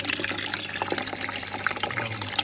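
A water jet angled into a bucket, a steady close gushing and splashing that fills the whole moment.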